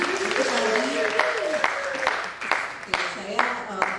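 Audience applause at an afternoon symposium session, a crowd clapping steadily while a voice talks over it, with a few sharper individual claps standing out near the end.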